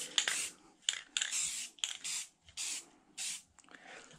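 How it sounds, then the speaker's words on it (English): Short bursts of black textured aerosol spray paint hissing over a picture frame, about six quick sprays in an uneven rhythm, close and fairly loud with brief pauses between. "And I just overspray it over top here."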